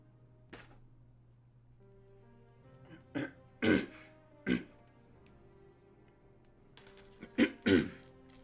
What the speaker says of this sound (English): I'm sorry I keep clearing my throat